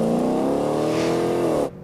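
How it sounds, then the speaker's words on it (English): A car driven by a driver named Flora accelerates hard past 70 km/h, its engine note climbing steadily and loud throughout, then cutting off abruptly near the end. "But listen to the engine. Flora's still accelerating."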